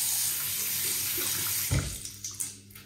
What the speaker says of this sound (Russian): Вот тут даже можно теплую воду поставить.